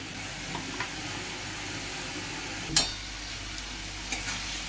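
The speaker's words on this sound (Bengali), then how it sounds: "আমি প্রথমবার মাছ রান্না করছি" Fish curry cooking in a pan, cooked the way meat would be: a soft steady sizzle with occasional clicks and one sharper clatter of a utensil, no talking.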